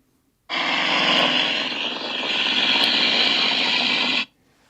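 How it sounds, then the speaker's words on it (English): A deep growling dinosaur roar sound effect, one sustained, loud, rough blast that lasts about four seconds and cuts off abruptly, with silence before and after. "Deep growling dinosaur roar."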